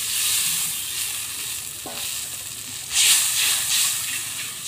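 Water is poured into a simmering hilsa and eggplant curry. A loud, close sizzling hiss swells into a brief gush partway through, then settles back to steady bubbling.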